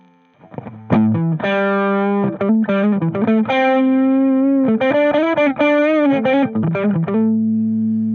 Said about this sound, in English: pretty standard drive sound, nothing crazy